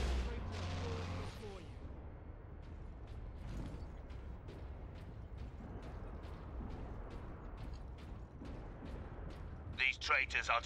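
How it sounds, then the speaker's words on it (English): Gunfire rattles in Warhammer 40k: Space Marine on an exposed landing pad, a run of sharp shots and mechanical clanks over a low rumbling backdrop, with voices speaking and a louder burst near the end. "Keep shooting at it."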